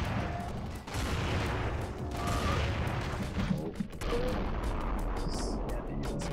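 Grenade launcher fire in the video game KM Movement: a dense, continuous roar of blasts and booms rolling on without pause, with thuds and crackles layered over a heavy low rumble.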